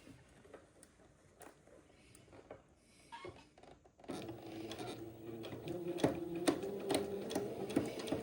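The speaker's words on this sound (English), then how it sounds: "Now you notice I am sewing over the pins this time" A sewing machine stitches the sleeve of an Eton suit over pins, a close, steady mechanical whirring of rapid needle strokes that starts partway through after a quieter stretch of light handling sounds.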